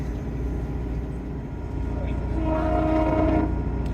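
A train horn sounds at Spray Point, starting partway through as a sustained tonal blast over rumbling background noise and heard from indoors.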